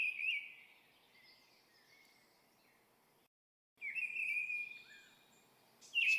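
A mistle thrush sings faintly in the background, its high whistled phrases evenly spaced and unrepeated, with a short gap of silence midway and a fuller burst of song near the end.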